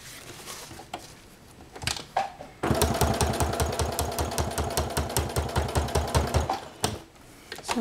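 A sewing machine runs a fast, steady burst of rapid stitching on aplix hook-and-loop tape, close and loud, after a few short bumps and a brief start, then stops near the end.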